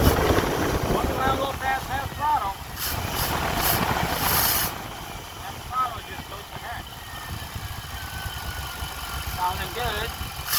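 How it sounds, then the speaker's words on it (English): Throttle-body-injected engine by a barn revving unevenly and unable to climb past half throttle, with a steady rough drone under wind buffeting and occasional speech. "I just can't get it to go past half throttle."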